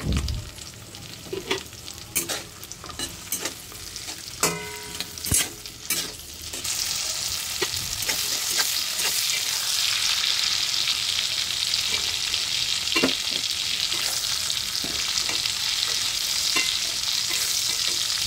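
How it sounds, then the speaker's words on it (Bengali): Whole spices and other ingredients fry in a wok until light brown for a potato curry, with a continuous loud sizzle broken by sharp spatula scrapes and knocks, growing denser and steadier toward the end. "এই সব কিছু উপকরণ দিয়ে হালকা বাদামি করে ভেজে নেব।"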